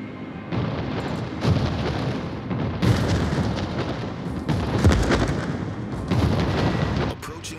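Warship guns boom in World of Warships, a Hōshō carrier match, in a series of heavy, loud blasts with rumbling tails spaced about a second apart, sounding close and dominating the scene.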